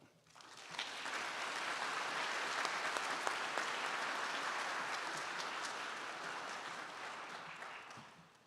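A ceremony audience at a university optometry white coat ceremony breaks into steady, warm applause. It swells quickly, holds full for several seconds, then tapers off near the end.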